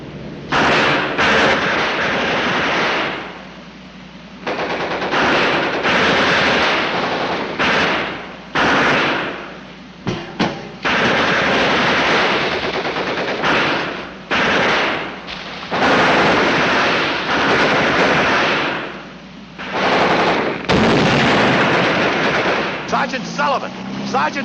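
Heavy battle gunfire fills the scene, with rapid bursts and booming blasts of tank and machine-gun fire repeating in loud, near waves, separated by short pauses, with shouted voices at times.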